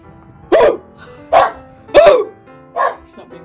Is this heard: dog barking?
yes